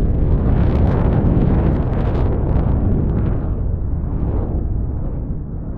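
A SpaceX F9R rocket prototype explodes in flight, a loud, sustained roaring blast that rumbles continuously for several seconds and slowly tapers off, with no voices.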